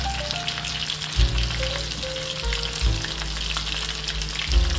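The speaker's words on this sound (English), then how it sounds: "so when the fish are frying in the skillet" Steady sizzle of fish frying in a skillet, continuous and fairly loud, with a few low knocks and stirring sounds now and then.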